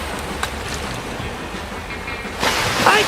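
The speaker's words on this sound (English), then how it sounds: "I told him Betsy the Invisible Horse wasn't ready for the big waves" Ocean waves and surf in a cartoon beach scene, a steady washing roar that swells into a louder crashing splash near the end.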